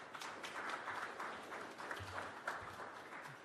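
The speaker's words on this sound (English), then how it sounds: "Give him a nice round of applause." Mourners at a police officer's funeral service give a round of applause, a soft, fairly distant and even clapping from a gathered crowd that continues steadily throughout.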